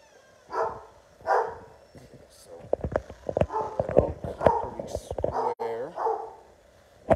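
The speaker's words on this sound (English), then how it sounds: "Excuse the dogs." Dogs bark in short bursts nearby, with sharp clicking and pattering sounds and quiet talking mixed in.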